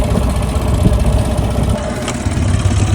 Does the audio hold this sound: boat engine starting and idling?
yes